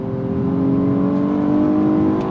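A 2023 Nissan Maxima sport sedan pulls hard at full throttle, its engine note climbing steadily in pitch as it revs, loud and close from inside the cabin, with no talking.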